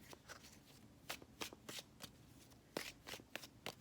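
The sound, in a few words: tarot cards being shuffled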